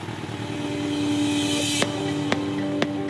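KTM motorcycle engine revving steadily at close range, a continuous loud drone with three short sharp clicks or blips near the end, no one speaking.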